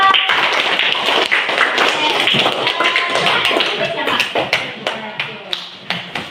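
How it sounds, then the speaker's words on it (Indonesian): Classmates in a junior high school classroom clap for a student's presentation on a local-wisdom project, a scattered, uneven patter of hands that thins into separate sharp claps toward the end, with some talking mixed in. "Tepuk tangan dong."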